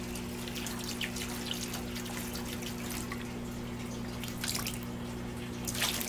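Liquid bloom nutrient poured into the water of a hydroponic tomato setup, heard as a continuous close trickle and splash with scattered drips over a steady low electrical hum.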